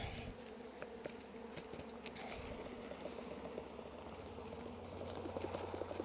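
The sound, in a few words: honey bees buzzing at hive during mite wash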